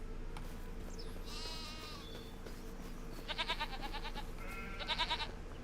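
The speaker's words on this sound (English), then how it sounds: "How the billy goat's getting on." A billy goat in the video game Farming Simulator 25 gives several wavering, nasal bleats in separate bursts over a steady low farm ambience, close and clear, with no voices.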